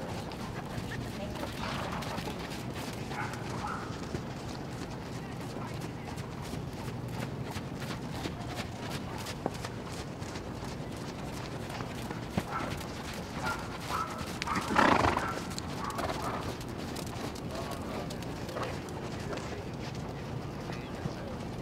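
Performance hunter horses canter around a show ring, their rhythmic hoofbeats steady and moderately distant beneath a voice over the arena speakers.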